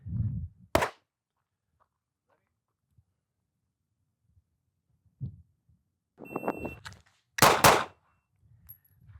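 Compact pistol shots from a Smith & Wesson Bodyguard 2.0 or Glock 42 at a shooting session: two sharp, loud cracks several seconds apart, with quieter muffled activity and a brief voice between them.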